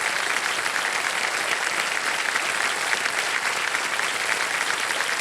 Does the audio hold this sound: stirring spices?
no